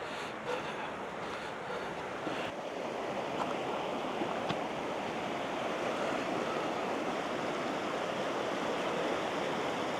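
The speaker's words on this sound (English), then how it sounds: "So we're right here by the creek." Creek water flowing steadily past a hiking trail in a wooded park at low water level, a continuous moderate rushing wash with no talk.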